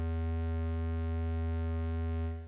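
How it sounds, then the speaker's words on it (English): A low, steady buzzy synth tone with a hollow square-wave timbre, sustained alone and fading out at the end. "It's just a regular square wave, but low it sounds like this."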